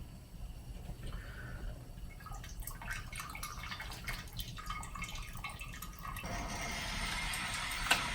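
Thin stream of water trickling through grains in a brew bag during an all-grain brew-in-a-bag rinse for a Brut IPA, a steady soft dribbling and dripping that runs continuously with no voices.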